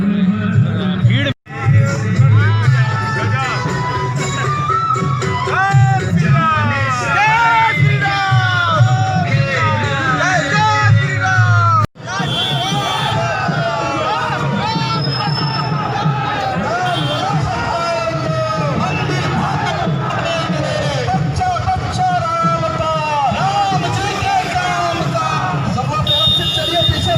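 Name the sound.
crowd of people at a political gathering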